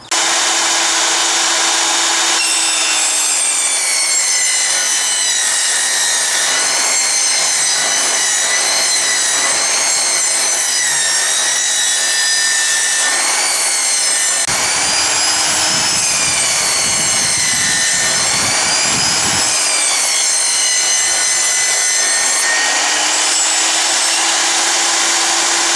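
Power saw cutting timber on a Triton workbench, a loud continuous whining rasp with rising and falling pitch as boards feed through, briefly easing midway.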